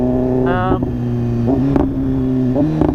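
A 2015 BMW S1000RR fitted with an SC-Project exhaust idles loudly nearby and is revved in several short, sharp bursts over its steady rumbling tone.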